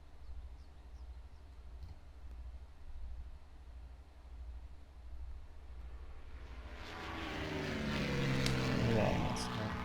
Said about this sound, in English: Passing airplane.